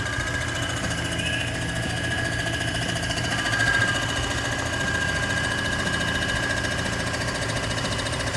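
A Comec ACF200 milling machine surfaces the gasket face of an AMC 360 cylinder head, producing a steady mechanical hum and vibration with a faint high tone, close and continuous without talk.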